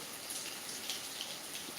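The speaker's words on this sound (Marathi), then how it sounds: "त्या पत्र्यांवरून पाणी असं खाली पडताना दिसत आहे" Steady patter of rainwater dripping and splashing off metal roof sheets, continuous and moderately close with no voices.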